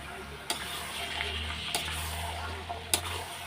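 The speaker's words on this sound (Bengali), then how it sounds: "সব কটাই চিকেন দিয়ে দিলাম এবার কষিয়ে নেব" Chicken pieces sizzle loudly as they are fried in a spice paste for a Begumti chicken curry, a continuous close sizzle broken by three sharp scraping stirs of the pan.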